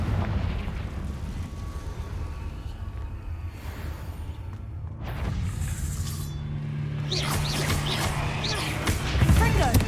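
A Confringo fire spell explodes in Hogwarts Legacy, with bursts and rumbling booms swelling over a continuous low game soundscape, growing louder toward the end.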